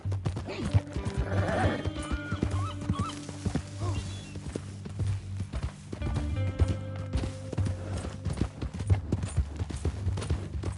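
Horse hooves clop in a steady rhythm over a low background hum in the video game Red Dead Redemption 2, with a whinny rising partway through.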